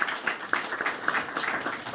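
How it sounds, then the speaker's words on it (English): Applause from a conference audience at a morning event on U.S.–Africa relations, a steady dense patter of many hands clapping with no voices over it. "So please give them a very warm round of applause."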